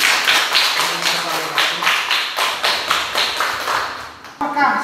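Students in an Indonesian classroom clap together in a brisk, even rhythm of sharp bursts that carry on for several seconds, with a voice speaking briefly at the close.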